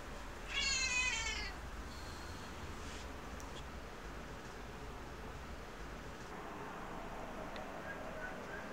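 A single close, loud cat meow lasting about a second near the start, followed by steady background noise with no further calls.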